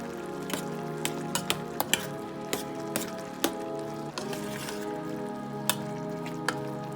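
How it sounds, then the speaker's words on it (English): Peas simmer in a pan with sugar and butter, a soft bubbling sizzle punctuated by irregular sharp pops and crackles, fairly quiet and close, with no talking. "The peas have simmered down some, and the sugar and the butter has cooked into the peas."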